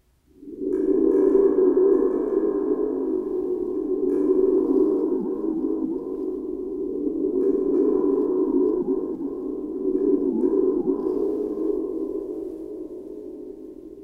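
A spring tube percussion instrument, a tensioned tube swung through the air, gives a sustained hollow, echoing whoosh-tone that swells and wavers steadily for many seconds, fairly loud and alone.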